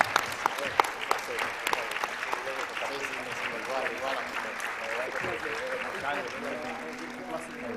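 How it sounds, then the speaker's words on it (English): Warm round of applause from a gathering of Dominicans at the Capitol, a steady crowd of clapping hands that starts with sharp close claps and settles into a sustained wash, with voices talking and cheering throughout. "giving them a warm round of applause"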